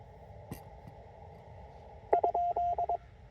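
A short burst of Morse code tones sending a question mark, a steady pitched beep keyed in dots and dashes on a TR-45L radio, sounds over faint radio hiss after a click.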